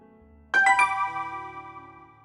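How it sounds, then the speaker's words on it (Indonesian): Phone notification chime: a short bright three-note ding rising in quick succession, ringing out and fading over about a second and a half, alone in quiet. "Terdengar notif masuk ke ponsel Meli, ia pun membukanya."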